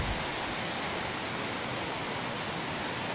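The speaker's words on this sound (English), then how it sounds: "I don't know if you guys can hear the river or not. It's a nice peaceful sound." Steady rushing of a river flowing beside a bushcraft campsite in Greenwater, Washington, a continuous broadband wash with no pauses, fairly close and even in loudness throughout.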